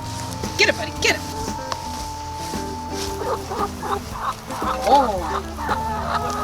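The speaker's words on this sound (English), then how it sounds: "Who's the chicken who likes to get picked up?" Farm chickens cluck and murmur close by on a market-garden harvest day, with short bursts scattered over a steady low hum, while a person speaks briefly.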